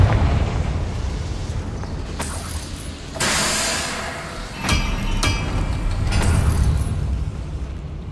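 Confringo blasting curse explosions in the Hogwarts Legacy video game: loud bursts near 2.2, 3.2 and 4.7 seconds and a lighter one at 6.3, each with a bright crackling tail, over a continuous low rumble of game ambience and no talk.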